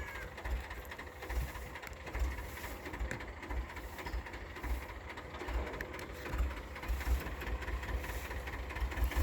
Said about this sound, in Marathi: आता ती ट्रॅक्टर अडकलेला आहे.